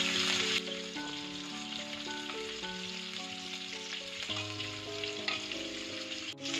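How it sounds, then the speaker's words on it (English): Fish sizzling steadily in a hot pan while frying for ikan asam pedas, with a constant hiss and light crackle. Tonal music plays throughout over the sizzle. "Now I'm going to turn the fish like so to cook it up."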